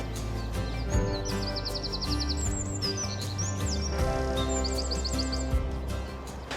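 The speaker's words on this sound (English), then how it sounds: "It's picked up a willow warbler" A willow warbler in woodland sings short, thin, trilling phrases, repeated several times. The song sits fairly faint over a steady low hum and background noise.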